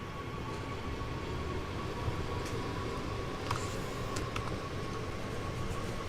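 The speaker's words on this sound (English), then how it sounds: "Well, the train's working now," Train running in Train Sim World 3 on a German line, a steady rumbling drone with a faint hum and occasional soft clicks and rattles, continuous and even throughout.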